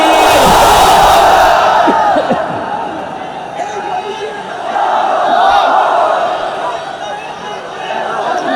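A large gathering at an outdoor Islamic sermon roars back a loud, sustained chorus of shouting to a takbir call, the mass voices swelling, fading slightly, then rising again in waves.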